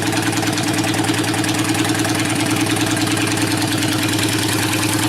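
A motorcycle engine idles steadily, a close, even, rhythmic low putter that holds throughout with no revving.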